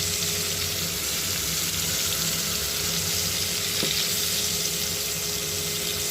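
Rohu fish sizzling as it fries in a pan of oil in a village kitchen, a steady close crackling hiss that holds even throughout with no voices.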